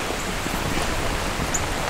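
Steady rain falls with an even, hissing patter, continuous and unbroken, with no voices.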